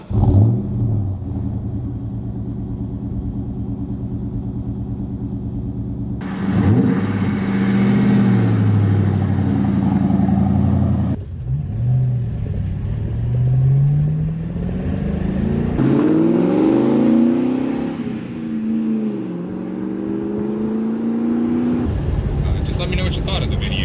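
A 2002 Mustang GT V8 pulls away in a close, loud engine drone that swells and falls through repeated upshifts, with revs climbing and dropping across the run as the car is driven.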